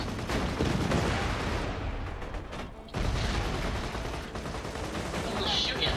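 Rapid gunfire from the video game Borderlands 2 fills the clip as a dense, loud barrage, dipping briefly near the middle before resuming, with game voices mixed in.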